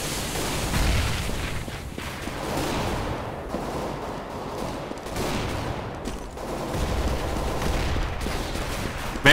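Counter-Strike: Global Offensive match with a grenade blast and sustained gunfire, dense overlapping rifle bursts and booming impacts filling the whole stretch at loud, close range, with no talking.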